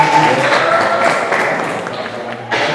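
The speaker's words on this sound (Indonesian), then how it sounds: "Ya, berikan aplaus." Classroom audience applause during a teaching practice session, a short burst of clapping from a group that fades and then briefly swells again near the end.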